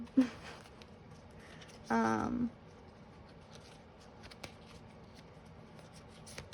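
A tarot card deck is handled quietly at close range: a brief rustle, then a denser burst of riffling and flipping cards lasting about half a second, followed by faint scattered taps and shuffles.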